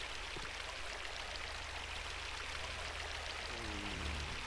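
Flowing water in the Unreal Gold game, a steady broadband rushing stream that runs unbroken and fairly loud throughout, with no talk over it.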